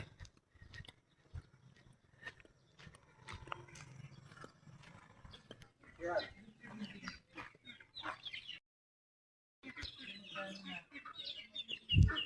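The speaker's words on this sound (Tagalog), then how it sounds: "Ang dami pong alagang bibi ng pinsan ko. May kasama ng manok pa." Ducks and chickens quacking, clucking and calling around a farmyard, with scattered squawks and chirps, a brief quiet gap, and faint voices in the background.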